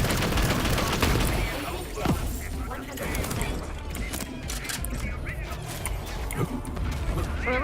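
A chaotic gunfire barrage in Borderlands 3 rattles on continuously with crashing impacts and mechanical clatter, while a voice talks over the fighting.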